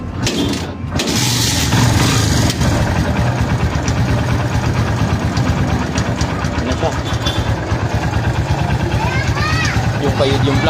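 An overhauled Kawasaki Barako motorcycle engine catches early on and then idles steadily, close and loud, with a rough, continuous rumble and some voices in the background.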